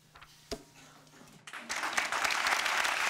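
Polite applause at a student eloquence contest in a courthouse, starting with a few scattered claps and rising after a short pause into fuller, steady clapping from the crowd.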